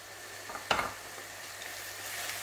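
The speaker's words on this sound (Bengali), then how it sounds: "আমি 5 মিনিটের মতো মশলাটার বাজমো" Masala spice paste with chillies and panch phoron frying in a pan for a Bengali chicken and potato curry, a soft continuous sizzle with one sharper crackle near the start, fairly quiet and heard alone.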